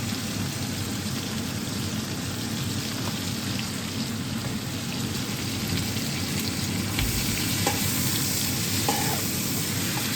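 Prawns tossed with an all-purpose seasoning mix fry in a pan with a loud, steady, rain-like sizzle that runs unbroken for the whole stretch, with a few faint clicks and no voices.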